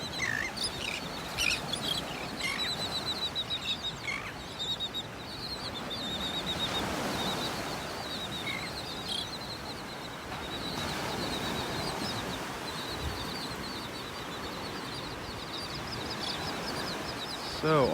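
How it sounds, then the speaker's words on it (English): Birds call repeatedly from a beach in North Naples, Florida, a steady chirping chorus over continuous surf and wind, with faint talk at times. "Seeing the birds back, hearing the birds."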